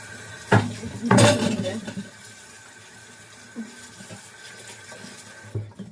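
Running water in a kitchen sink while meat is washed, a steady close trickle with a few louder splashes and clatters of the meat and dishes near the start, no talking.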